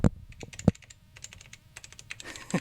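Clicky mechanical keyboard keys typed in short irregular bursts, sharp close clicks with a few heavier strikes, no talking.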